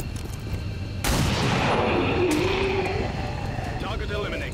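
Gunfire from the turn-based strategy game XCOM 2: one sharp broadband blast stands out, with another shot-like crack after it, over a steady game soundscape. A voice talks through the action.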